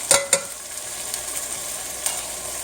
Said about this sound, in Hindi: ये डाल के तो हम इसको फ्राई कर लेंगे।